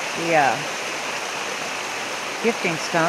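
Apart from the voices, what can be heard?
creek water flowing in a forest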